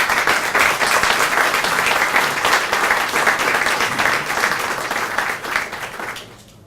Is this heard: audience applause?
yes